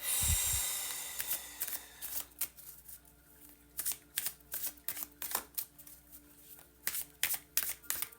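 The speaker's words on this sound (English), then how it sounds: "now I'm going to just shuffle some tarot" Tarot cards are shuffled in a series of crisp riffling snaps and soft slaps, irregular and close, with no talking.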